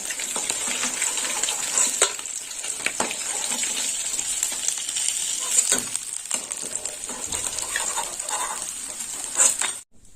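Fish frying in a pan, a bright steady sizzle with sharp intermittent spatters and utensil clinks, ending abruptly with a final clatter; no voices are heard.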